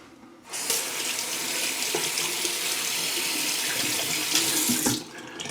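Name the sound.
water running from tap to rinse shaving soap puck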